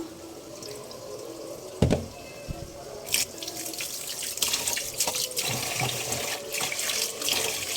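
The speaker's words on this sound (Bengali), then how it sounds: "এই তো চালটা ধোয়া শেষ" Tap water runs into a kitchen sink as rice is washed, a steady close splashing with sharper knocks and clatters from the pot and grains, and no talking.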